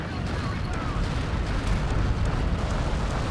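A heavy, rumbling blast from an anti-tank mine in the World War II shooter Forgotten Hope 2 at Tobruk, a loud continuous roar with a sustained low-frequency rumble through the whole stretch.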